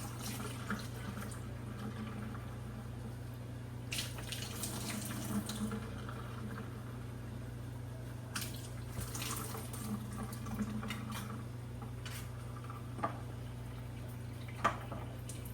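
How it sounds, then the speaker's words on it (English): Water runs steadily as rinsed canned beans are drained, like a tap pouring into a sink, with scattered drips and light clinks over a constant low hum. "Make sure you drain all the water off of them."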